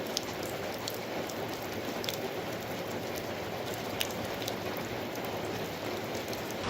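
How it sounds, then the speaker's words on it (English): Heavy rain pours steadily on a surface outdoors, a dense, even hiss with scattered individual drop taps, no voices present. "it started raining a little bit heavy again."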